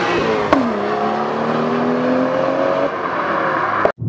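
A turbocharged BMW M235i engine revs hard under acceleration, its tone climbing smoothly in a steady, loud pull before cutting off abruptly near the end.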